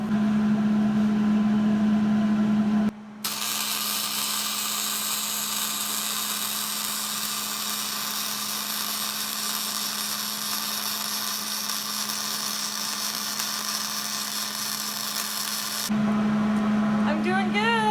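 An angle grinder works over freshly welded steel loft brackets for an arched cabin kit, a loud, steady high whine that holds for about thirteen seconds and then cuts off, with a low hum before and after.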